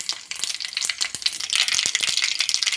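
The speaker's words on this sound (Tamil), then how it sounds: "அதில் எண்ணெய் காஞ்சதும் கடுகு மட்டும் சேர்த்துக்கோங்க" Mustard seeds crackle and sizzle in hot oil in a pan while a tomato pickle is being made, a dense, steady spitting hiss with scattered sharp pops that grows louder partway through, with no talking.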